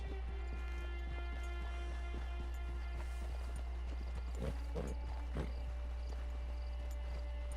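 Horse hooves in Red Dead Redemption 2 Online clop in a quick, steady rhythm over a constant low hum, with a few louder thuds partway through.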